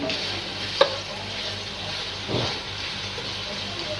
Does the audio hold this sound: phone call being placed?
no